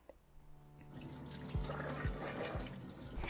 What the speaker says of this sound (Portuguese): Eu vou trocar a minha água ali no escorredor